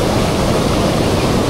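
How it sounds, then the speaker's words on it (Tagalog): Strong rushing water at Tikip Falls in Bataan roars as a dense, steady, close wash of noise, with no breaks and no voices. "Parang malakas lang siyang tubig na rumaragasa."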